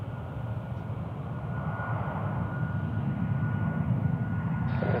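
A plane taxis at Tucson International Airport around sunrise, its engine giving off a steady, broad rumbling drone that holds at an even, moderate level throughout, with no voices.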